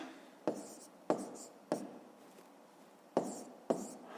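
A pen scratches out a math equation by hand on paper, five sharp strokes landing in an uneven rhythm, each starting with a tap and fading into a brief scrape, close and quiet with no talk.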